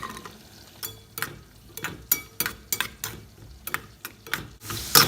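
Cashew nuts fry in hot ghee in a pan for Kerala ada pradhaman, with a soft sizzle beneath repeated sharp scraping clatters of a ladle stirring, irregular and close.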